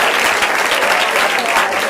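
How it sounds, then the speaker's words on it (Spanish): Loud, steady applause fills the room at a Spanish secondary school (4º ESO) graduation ceremony, a dense wash of clapping from the gathered audience with no talk over it. "Un aplauso."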